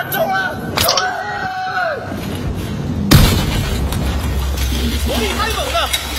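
Heavy gunfire and explosions in the Battlefield 4 video game, with sharp cracks and a big boom about halfway through, under a steady roar of battle, while someone shouts over it.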